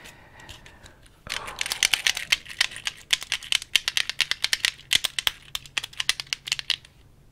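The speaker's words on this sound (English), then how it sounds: "This tingly typer isn't just your regular number pad broken off of an old school computer keyboard." Rapid, uneven clicks of fingers typing on a number pad broken off an old computer keyboard, close and crisp, with a brief rustle before the keystrokes start and no talking.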